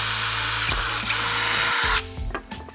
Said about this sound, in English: So now I'm going to drill the hole through the bushing and the sleeve all the way through